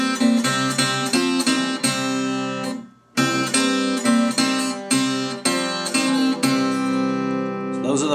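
An acoustic guitar plays a blues riff of double stops, loud and close, in repeated rhythmic phrases with a short pause midway.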